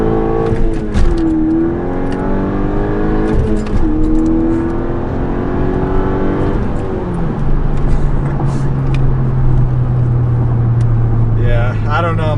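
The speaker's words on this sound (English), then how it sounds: "Do a first gear with winter tires." A car accelerates hard in first gear on winter tires, the engine climbing steadily in pitch through rising revs before settling to a steady drone, loud and close with a voice talking over it.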